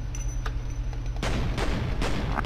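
Loud gunfire from the video game F.E.A.R. Perseus Mandate, a dense burst of repeated shots kicking in partway through after a quieter stretch with a few sharp clicks.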